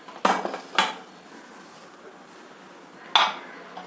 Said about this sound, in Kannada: ಇವಾಗ ಕುಕ್ಕರ್ ಲಿಡ್ ಕ್ಲೋಸ್ ಮಾಡಿ